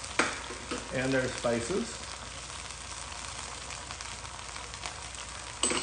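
Shrimp Mozambique sizzles in a pan with hot sauce and spices, a dense, steady frying hiss close by, with a short burst of someone speaking near the start and a clatter at the close.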